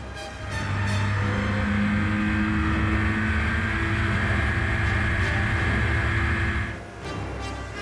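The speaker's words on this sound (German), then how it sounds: "Vollautomatisch bringt die Anlage den Boxer langsam auf Touren." A Porsche 911 boxer engine running on an automated test rig, a loud sustained engine roar with steady tones climbing as revs build, dipping briefly near the end.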